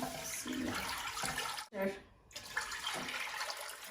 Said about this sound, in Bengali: এখন পানি দিলাম